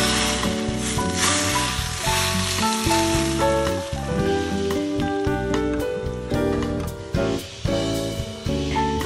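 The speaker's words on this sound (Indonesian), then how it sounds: "langsung aja kita siramin minyak panas ya guys. Ini minyak udah panas banget." Very hot, smoking oil poured over ground shallot sambal bawang makes a bright, crackling sizzle, partly masked by loud background music playing throughout.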